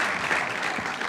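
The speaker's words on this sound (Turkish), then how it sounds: "Alkışlıyoruz." A Turkish television studio audience on İbo Show gives a brief, steady wash of applause, dense and even, with no distinct voices over it.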